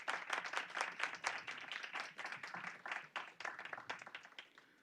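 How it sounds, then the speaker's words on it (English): Applause at a board of education meeting honoring students, a smaller group clapping in a room, individual claps distinct and fairly quiet, fading toward the end. "Let's give our students a round of applause."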